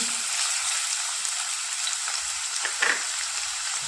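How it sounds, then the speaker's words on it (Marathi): Finely chopped onion sautéing in hot oil for stuffed brinjal, a steady hissing sizzle with a few light stirring knocks near the end, close and unaccompanied by speech. "तेल छान गरम झालंय, त्यानंतर आपण जो घेतलेला कांदा आहे तो यात परतून घेऊ"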